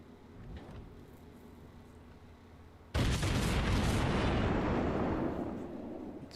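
Warship guns fire in the video game World of Warships, a sudden loud broadband blast after a low rumbling hum, then a long roaring decay that slowly fades.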